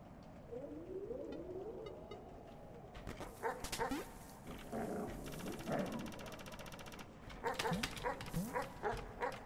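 A dog in the video game Animal Well barks and growls in repeated bursts, with yips and whimpers mixed in over game sounds.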